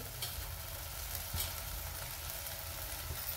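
Masala sizzles and fries steadily in hot oil in a pan while brinjal curry is cooked, a low, even crackle running throughout without speech.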